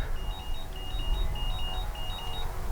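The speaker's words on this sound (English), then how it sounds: "What's that beeping sound?" Repeated short electronic beeps in pairs from a battery charger, fairly faint, sounding over a steady engine-like drone from an RC model DHC-2 Beaver plane in flight; no one speaks.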